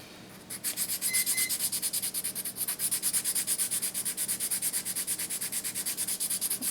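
Steady rhythmic sanding of a paper bead pendant with a power tool, close and continuous, with regular rubbing pulses and no talk.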